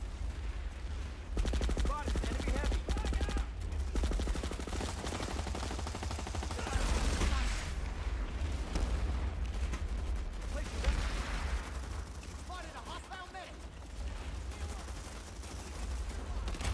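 Rapid carbine fire in a PC shooter game comes in loud, repeated bursts and volleys over a steady low rumble, with a person talking now and then between the shots.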